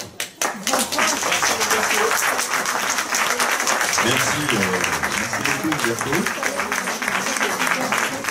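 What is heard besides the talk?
audience applause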